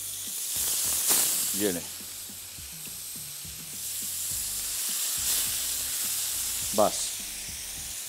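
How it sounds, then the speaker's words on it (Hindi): Fish frying in hot oil in a home kitchen, a steady broad sizzle running throughout with faint clinks and scrapes, with brief speech near the start. "ये मछली को किया फ्राई"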